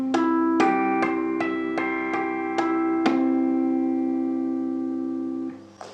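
Guitar harmonics sounded by tapping or slapping the strings ring out as seven bright, bell-like chimes in quick succession, each sustaining and overlapping, then a longer decay as the notes fade out.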